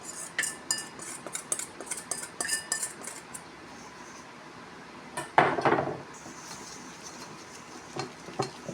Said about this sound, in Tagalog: let us now start the creaming the butter